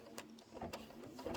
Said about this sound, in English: I'm just going to go ahead and hit start, and it's going to stitch out the black of the penguin